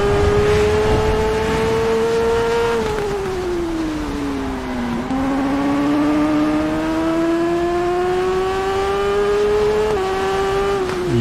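Racing motorcycle engine in the game TT Isle of Man Ride on the Edge 2, fitted with a radiator, holding a loud sustained high-rpm whine that dips around a corner and climbs again through gear changes, steady throughout.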